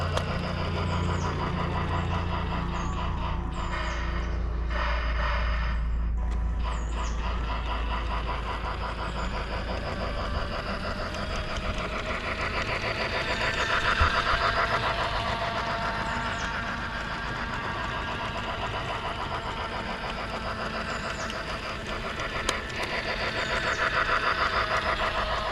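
Lionel toy locomotive from A Christmas Story train set, a continuous whirring motor hum with a mechanical buzz, running steadily in reverse then forward, close and moderately loud with faint clicks.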